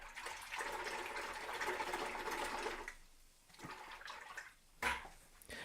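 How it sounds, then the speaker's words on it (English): A paintbrush is rinsed in water, a soft continuous sloshing and swishing for several seconds, then a brief pause and a few quieter splashes and taps. "Rinse our brush."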